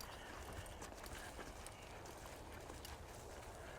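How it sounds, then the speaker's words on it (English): Horse hooves in a canter departure on the left lead in a post pen, a soft continuous clip-clop of footfalls at moderate distance under broadband rustle and ambient noise. "There's the canter departure in the left lead."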